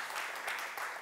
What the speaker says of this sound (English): A little bit of applause for Peter.